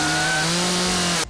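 A chainsaw cutting a pumpkin screams at high revs for just over a second, loud and close, then stops abruptly.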